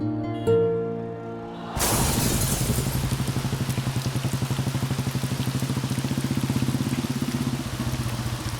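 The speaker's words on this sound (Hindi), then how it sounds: "अरे यार कितनी बारिश आ रही है, मैं तो पूरा भीग गया" Heavy rain suddenly starts pouring down after a few seconds of quiet tonal music, becoming a loud, dense, steady hiss of downpour that continues to the end.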